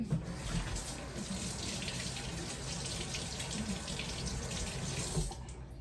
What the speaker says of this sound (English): I'm just gonna give my hands a quick rinse.